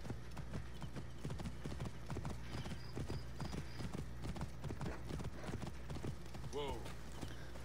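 Horse hooves clip-clopping in the video game Assassin's Creed Origins: a steady trotting rhythm of quiet hoof strikes, with a brief whinny near the end and faint background game sounds.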